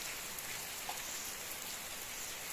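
Rain falling outdoors, a steady hiss of drops striking surfaces, even and unbroken throughout, fairly soft and with no voices over it.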